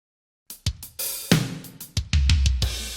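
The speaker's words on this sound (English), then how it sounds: "If I play the drums together, sounds like this." A processed MIDI drum kit plays a short groove in which kick, snare and cymbal hits land together, punchy and reverberant, with a booming low end building toward the end and no talking.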